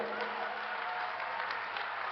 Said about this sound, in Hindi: जोर से बिरला जी के लिए ताली बजाइए भाई